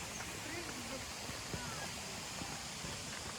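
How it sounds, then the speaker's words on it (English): Kalidonia waterfall in the Troodos mountains of Cyprus flows with a steady, broad rushing wash, faint and distant, heard under soft background activity. "We're near the waterfalls."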